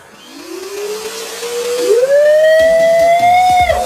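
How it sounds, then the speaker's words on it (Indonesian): A Multipro INA VC12-1MD wet and dry vacuum cleaner in blower mode spins up with a rising motor whine that climbs and settles into a loud steady howl, then cuts off abruptly near the end. "kita tes fungsi blowernya ya"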